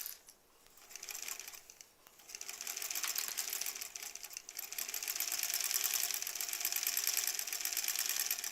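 A sewing machine stitches a quilt block for a centered pinwheel pattern: a steady, fast mechanical whirring and clatter that starts, pauses briefly, then runs continuously and grows slightly louder.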